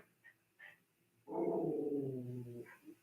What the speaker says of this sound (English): those are my dogs right now. So loud right now.